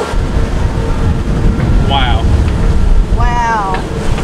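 Steady wind rushing and engine-like rumble of a tour boat cruising over the sea off Santorini, with brief bursts of speech partly buried in the noise.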